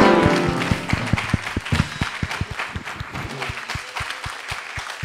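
A church congregation claps together in a steady, even rhythm, with a loud, close crowd sound that settles into regular beats.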